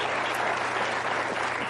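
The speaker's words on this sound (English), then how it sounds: "We should have cut the applause." An audience breaks into dense, continuous applause, many hands clapping at once in an even wash of sound with no voices standing out.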